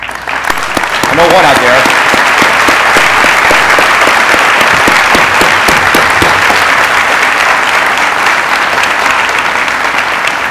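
A school hall audience breaks into sustained, loud applause for standing veterans, dense clapping filling the room for about ten seconds after a brief spoken line at the start.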